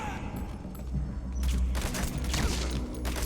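Gunfire during the shooting tutorial in Metal Gear Solid V: The Phantom Pain, a dense burst of shots that grows heavier midway and stays loud through the end over a low rumble.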